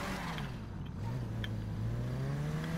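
A Nissan GTR in GTA V revs and accelerates with a rising mid-pitched engine drone that climbs steadily, loud and close, with no talk over it.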